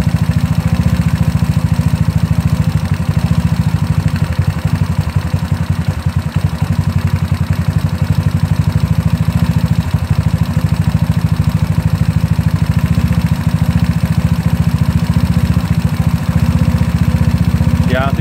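A GY6 scooter engine fitted with an OKO 30mm carburetor runs at a low, steady idle, with a continuous loud mid-low drone and faint clatter throughout, and voices talking over it.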